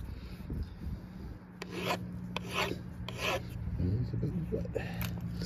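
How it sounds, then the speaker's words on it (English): Metal burrs on a Gallagher gate latch are filed down with a hand file, giving short repeated rasping strokes at close range over a low steady background hum. "We're gonna have to file those down."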